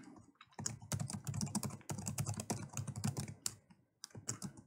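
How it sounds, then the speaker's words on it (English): Rapid keystrokes on a computer keyboard while a post is typed into an app, a dense run of close clicks with a short pause near the end. "I want to type in a post"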